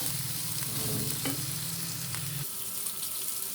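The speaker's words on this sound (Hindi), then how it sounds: "अभी प्याज को डालती हूँ, प्याज हो जाए हल्का सा सोटे" Onions sauté in a pan for a spicy stuffed bhindi dish, with a close, steady sizzle and brief stirring scrapes over a few seconds and no voices.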